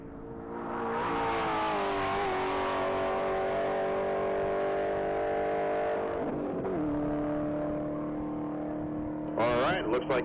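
A white 2015 Chevrolet Z28 accelerates on a mile-long top-speed run, its engine droning loud and steady with rising pitch, then shifting and fading at a distance while people talk near the end.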